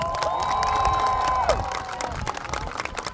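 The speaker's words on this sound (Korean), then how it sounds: "다시 한 번 큰 박수 부탁드립니다" A large outdoor crowd at a special military band and honor guard event at a national cemetery cheers and applauds loudly, with shouts and whoops over steady clapping and a sustained tone in the background.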